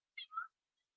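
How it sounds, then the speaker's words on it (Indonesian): A cat gives one short, faint two-part meow, a rising squeak sliding into a lower mew, alone in otherwise silent surroundings. "Kucing."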